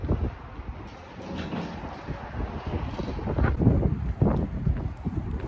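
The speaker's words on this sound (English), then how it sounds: "it is windy out" Gusty wind buffets outdoors in Kansas with rumbling low noise rising and falling, loud against the microphone, with a faint water-like wash underneath.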